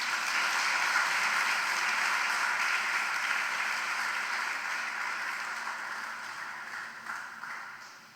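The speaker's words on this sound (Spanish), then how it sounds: "¿Alguien le da un aplauso al Señor por eso?" A church congregation applauds during a Spanish-language sermon, a steady wash of clapping that holds evenly and slowly fades toward the end, heard from a moderate distance.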